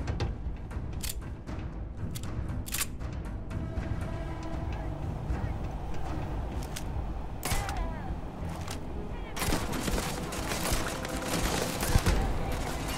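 A rare suppressed pistol firing in Starfield, a string of sharp shots spread through a busy stretch of game action, heavier clustered firing near the end, with someone talking over it.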